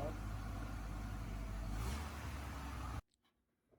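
Worn old Mini Dodge Dakota pickup engine running cold, a steady rough low rumble close by for about three seconds before cutting off abruptly into near silence.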